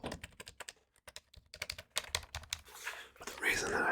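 Typing on a cheap $20 HP membrane keyboard, a fast run of close, soft plasticky key presses in uneven bursts, with some brief rustling near the end.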